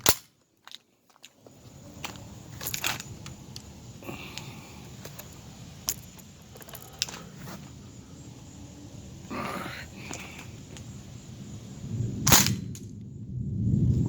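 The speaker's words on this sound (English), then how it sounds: "First shot over the crony." A CO2-powered steel BB mini Uzi with full metal body and folding stock fires over a chronograph, a few sharp isolated cracks spaced seconds apart over a low background hiss.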